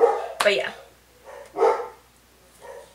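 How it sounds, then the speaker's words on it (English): A dog barks sharply once, followed by a couple of softer yips, with a person speaking briefly in between. "Sorry for the barking. My dogs are going insane right now."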